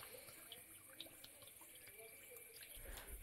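A weak village-pressure water stream fills a new jacuzzi, a steady faint splashing and trickling with small drips, heard alone and continuous.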